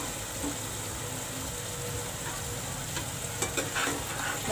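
Masala frying in a covered kadhai for dahi wali bhindi, a steady soft sizzle with faint stirring scrapes and a few louder clinks near the end, close by and with no talk over it.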